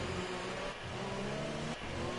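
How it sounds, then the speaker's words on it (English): Racing cars in a racing video game driving toward the grid after the formation lap, a steady mid-pitched engine drone with slight shifts in pitch, moderately quiet and continuous, no talk over it. "as the cars make their way to the grid"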